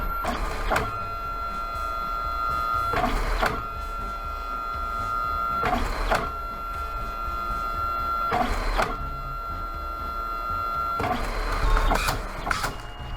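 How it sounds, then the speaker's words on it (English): A Fujifilm ASK300 photo printer runs a 4x6 print job, giving a steady mechanical hum broken by about five evenly spaced louder whirring pulses every two to three seconds. No voices are heard. "Let's see if it prints. There it goes."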